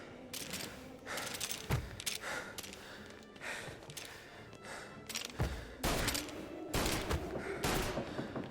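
Shotgun blasts in the video game Mafia: several loud, sharp booms spaced a second or so apart, each with a short tail, over a busy background of game noise.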